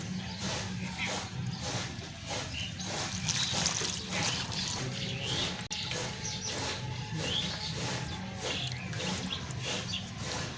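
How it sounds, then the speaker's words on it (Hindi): Spinach being washed under running water, a continuous close trickle and splash with shifting handling noise and no talk. "अब हम पालक को भी धो लेते हैं।"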